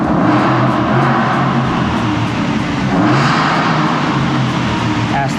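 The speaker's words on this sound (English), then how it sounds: "Aston Martin over there revving up" Aston Martin car engine revving nearby, a continuous rumbling roar with swelling surges, heard from a short distance over steady background noise.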